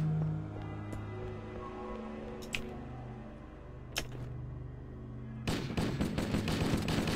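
Gunfire in the video game Halo, with a plasma pistol in play: a few sharp isolated shots, then a loud burst of rapid automatic fire near the end over a humming game backdrop.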